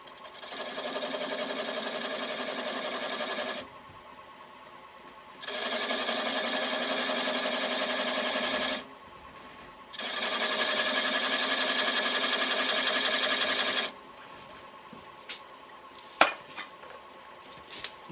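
A wood lathe turns a mimosa bowl while the toe of a 1/4-inch skew chisel cuts lines into it. A steady whirring hum comes in three long bursts with quiet gaps between them, and a few sharp clicks follow at the end.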